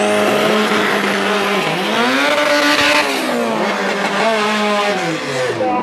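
A race car making a timed run at the Copa de la Vendimia in 2019, its engine roaring loud and close with rising and falling revs for several seconds, holding one continuous drone.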